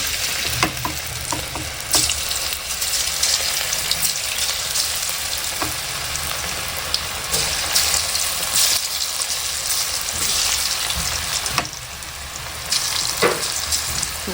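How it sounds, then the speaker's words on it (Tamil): Chicken pakoda frying in hot oil in a home kitchen, a steady dense crackling sizzle running unbroken throughout with occasional sharper pops and bubbling bursts, fairly loud and close, no voices. "நல்லா எண்ணெய் காஞ்சிட்டு இருக்குது சரி வாங்க சிக்கன் பக்கோடா போட்டுக்கலாம்"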